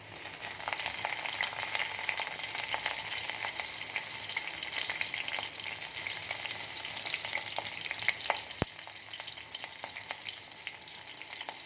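Green chillies fry in a mix of ghee and oil, giving a continuous crackling sizzle with dense popping spatters throughout and one sharper crack near the end.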